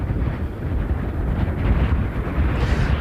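Strong wind blows on a very windy day in eastern Iowa, a loud, continuous low rumble of gusts buffeting an outdoor microphone, with no voices.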